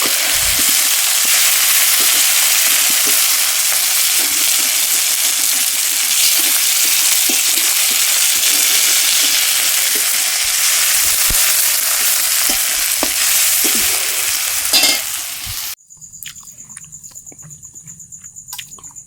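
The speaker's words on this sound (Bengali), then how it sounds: "মশলাটা কষা হোক" Onions and hand-ground spice paste fry in a pan with a loud, steady sizzle and occasional stirring scrapes, running continuously until it cuts off abruptly near the end, leaving a quiet room.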